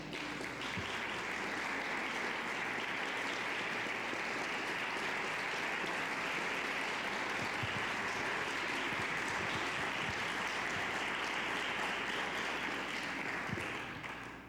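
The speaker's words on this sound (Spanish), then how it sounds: "Pido un aplauso para Aide." Sustained applause fills the room at a tribute event at the Mexican Embassy as the crowd claps for Aide, a dense, steady wash of many hands lasting well over ten seconds, even in level and without talk.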